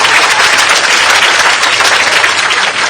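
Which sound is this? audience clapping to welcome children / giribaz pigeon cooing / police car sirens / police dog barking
audience clapping to welcome children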